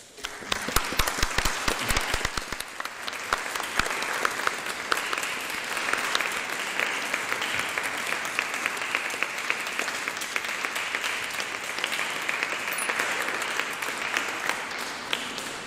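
A concert audience applauds in memory of an absent choir director, with dense, sustained clapping that starts with a few sharp claps and then stays full and even throughout.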